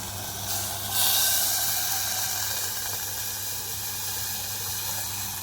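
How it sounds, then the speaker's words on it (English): Water poured into a pressure cooker holding lentils and rice for Mujadara, a steady near hiss and rush of liquid that swells after a second and runs on evenly without talk. "I'm going to add some water"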